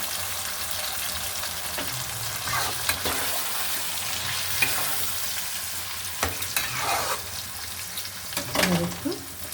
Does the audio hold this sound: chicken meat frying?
yes